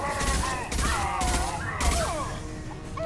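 Gunfire in a Mass Effect 2 firefight, dense overlapping shots and impacts, fairly loud and continuous, with voices chattering over the shooting.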